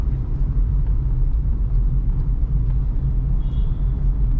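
Vehicles crossing a flyover on the old Mumbai-Pune highway make a steady, loud low rumble of traffic with no voices, and a brief faint whine rises near the end.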